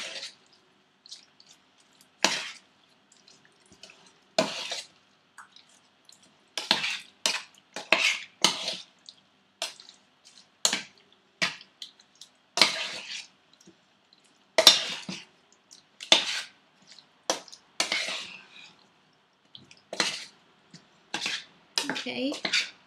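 Chicken biryani marinade with biryani masala being mixed in a bowl, giving a run of irregular wet clinks and scrapes of utensil against the dish, close and fairly quiet, with short pauses between strokes.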